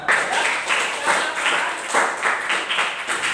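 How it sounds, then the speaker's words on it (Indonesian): Students in a floor gymnastics class on forward rolls clap their hands together, a fairly close, steady patter of many hands that swells in small pulses throughout. "tepuk tangan"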